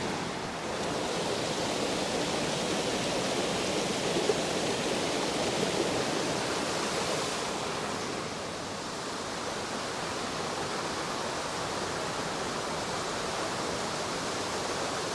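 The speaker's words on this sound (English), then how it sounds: "just let some water through the wheel." Water rushing steadily through an overshot waterwheel at an old Lake District mill, a loud, dense, continuous roar and splash with no pauses.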